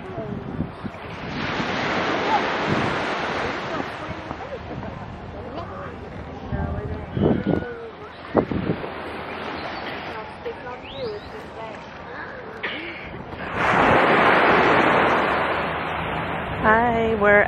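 Surf rolls in at Copacabana Beach in Barbados, waves washing ashore in broad swells with heavy wind buffeting the microphone, a louder wave crashing near the end.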